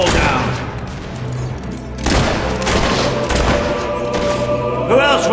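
Gunfire in the video game Fable 3, a dense run of loud shots and booms under game music, with a brief voice partway through.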